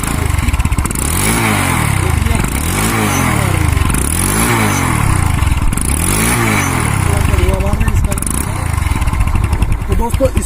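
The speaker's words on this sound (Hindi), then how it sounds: "मैं अब इसको स्टार्ट करके देख लेता हूं कि इसके इंजन की धुआं की क्या पोजीशन है" A used motorcycle engine low on engine oil runs loudly and steadily up close, its throbbing rising and falling in repeated revving surges.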